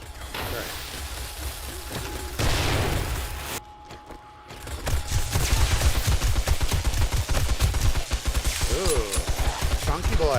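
Automated turrets firing in the zombie survival game 7 Days to Die, rapid mechanical bursts of gunfire rattling continuously after a brief pause, loud and close with a voice speaking over it.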